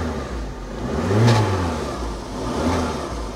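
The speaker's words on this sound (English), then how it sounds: "little three cylinder sounds all right." Small three-cylinder engine of a cheap auction car revving up and settling back, two close swells of a rough mid-pitched drone, fairly loud with no talking.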